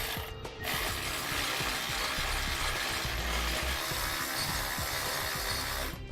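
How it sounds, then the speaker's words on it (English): A ratchet wrench runs down 3/8 locking flange nuts on a mounting plate during a SumoSprings helper spring installation on a 2015 Tiffin Allegro motorhome, a steady fast clicking that continues without a break, close and fairly loud. "we're going to put one of our 3/8 locking flange nuts on each. Now let's snug those down."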